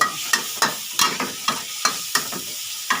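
Shrimp stir-fry in a hot pan for Thai basil stir-fry, with a steady close sizzle broken by regular scraping clanks of a spatula about every half second.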